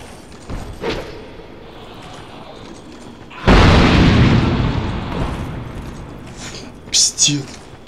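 A heavy, booming explosion in the video game Dark Souls II: Scholar of the First Sin bursts suddenly and rumbles off slowly, preceded by quieter muffled thuds and followed by a couple of short sharp sounds.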